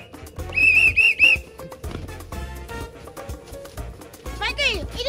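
A whistle blown in a few short, shrill bursts near the mic, with people talking and laughing around it and a second whistling sound near the end.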